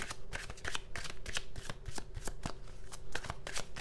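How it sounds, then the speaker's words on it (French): Tarot cards shuffled by hand in quick riffling bursts, a close, crisp papery flutter repeating rapidly throughout with no talking. "Je vais tirer encore quelques cartes."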